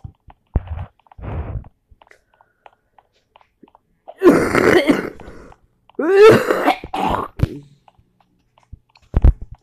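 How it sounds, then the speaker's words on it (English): Coughing in a Brookhaven game session, with a few loud, harsh coughing bursts close to the mic, separated by short quiet gaps and brief softer sounds. "That's the old cough."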